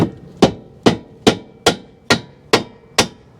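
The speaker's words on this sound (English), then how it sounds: "I'm just gonna use a rubber mallet and tap this one in a little bit farther" A rubber mallet taps a lower control arm into place on a third-generation Mazda 3, with eight evenly spaced, solid knocks ringing out close by and loud.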